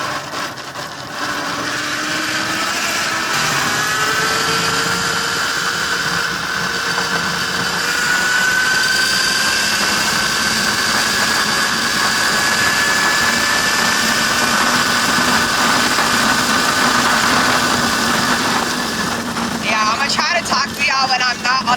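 An unlocked Tuttio Soleil01 electric dirt bike motor whines steadily and loudly for the whole stretch, with rising and falling tones as it rides over bumpy terrain, its pitch holding high with some rattling.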